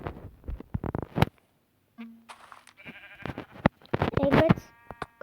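A few short, wavering Minecraft sheep bleats come through amid clicks, thumps and other game sound effects, with an occasional voice in the background.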